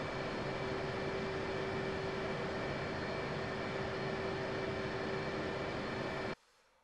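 A Blue Angels jet taxiing in the DCS World flight simulator gives off a steady, even engine whine and hiss, unchanging for about six seconds before cutting off abruptly, with no talking.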